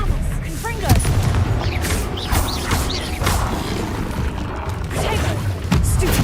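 Spell-combat blasts from Hogwarts Legacy: a cluster of sharp magical bangs and crashes with whooshing, creaking effects, recurring through a dense, loud battle mix with a voice talking over it.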